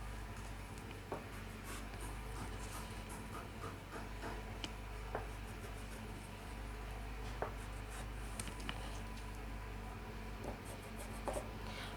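Someone marks fabric for a flare skirt with a series of faint scratchy strokes and light ticks, heard quietly over a low steady hum.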